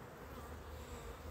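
Honeybees buzzing calmly around an open beehive during a frame inspection, a soft, continuous low drone with no distinct pulses, faint and close, no voices.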